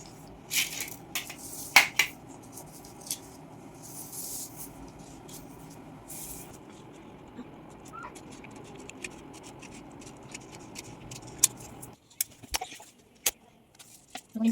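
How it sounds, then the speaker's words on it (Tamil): Scissors snip through paper in a series of close, crisp cuts, with a quieter scattering of snips and small clicks toward the end. "இந்த மாரி ரெண்டு பேப்பரையும் நறுக்கிக்கலாம்."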